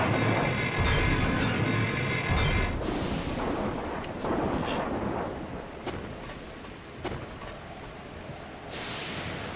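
Rocket launcher explosions in the Ninja Gaiden video game, a run of loud booming blasts and rumbling impacts that follow one another, dense and close, with no talking.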